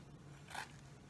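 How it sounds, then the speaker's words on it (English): A single short, crisp snip of scissors cutting the corner off a plastic soda bottle, quiet and close, set against near silence. "I'm going to just go ahead and cut that little corner off,"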